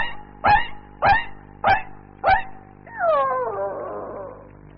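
A human voice imitating a sick female dog whimpering: four short, evenly spaced whining yelps, then a longer wavering whimper that slides downward and fades. Close and clear, with no talk.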